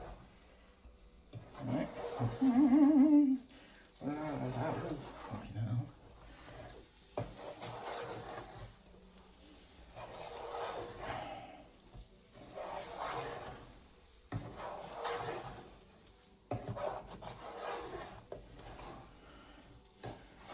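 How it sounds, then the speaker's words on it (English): Butter sizzles in a pan as brownie mix is stirred through it, a soft crackling fry under scraping strokes of a utensil, with brief bursts of speech breaking in between the stirring. "some of the butter is like really starting to sizzle"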